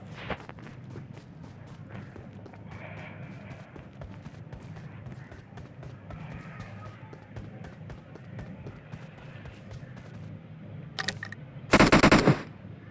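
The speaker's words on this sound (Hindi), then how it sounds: "मुझे वापस से गोली पड़ती है" PUBG Mobile gunfire on the Erangel map rattles in a dense automatic burst near the end, after a stretch of softer game ambience with scattered footstep-like taps and a few lighter shots.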